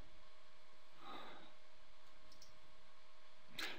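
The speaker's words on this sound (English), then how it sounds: "Let's click on Next." Computer mouse clicks while installing a LANGuardian virtual appliance: two short, close clicks about two and a half seconds apart over a steady background hum.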